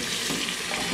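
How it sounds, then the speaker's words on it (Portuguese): Meat and garlic frying in a pressure cooker pot hiss in a dense, steady sizzle with faint stirring movement, close and continuous. "E agora vamos dar uma mexidinha aqui, ó."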